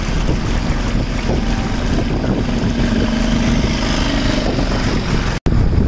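A boat cruises on the Kumarakom backwaters with a steady, close engine drone. Heavy wind buffets the microphone throughout, and there is no speech.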